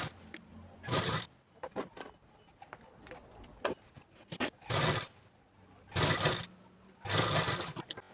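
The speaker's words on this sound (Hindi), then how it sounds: "देखो तो यहाँ पर ना मैंने इस तरह से सिलाई लगा लिया है" A sewing machine stitches a katori blouse in several short, quiet bursts of rapid whirring, separated by pauses filled with faint handling noises.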